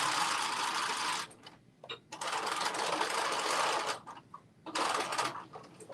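A sewing machine stitches lightweight fabric in fast, steady bursts, whirring for a second or two then pausing briefly before starting again, close and clear with no talk over it.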